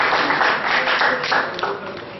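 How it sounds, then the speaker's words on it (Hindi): Listeners at a Hindi poetry recital for the poet Anil Uphar clap for him in a brief, full burst of applause, with a voice faintly mixed in. "और एक बार आप मेरे सम्मान में तालियां बजा दें"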